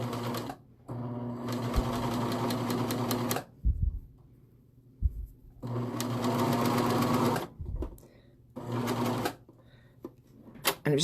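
Serger sewing machine stitching a knit neckband, its knife engaged, in several rapid rattling bursts of a few seconds each separated by pauses with soft handling clicks, close and clear, no talking.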